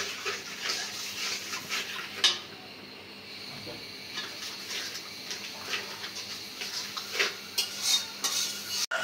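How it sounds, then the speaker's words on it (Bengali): A ginger-garlic spice paste is stir-fried in a pan for rohu fish dopiaza, with soft sizzling beneath repeated spatula scrapes and metal clinks against the pot, fairly quiet and without speech. "মশলাটা ভালোভাবে কষাই নিব।"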